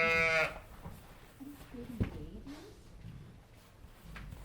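A single loud sheep bleat opens, and what follows is quieter farm ambience from a friendly Border Leicester ewe on a farm with chickens, cows and cats, with faint background noise and some distant sounds.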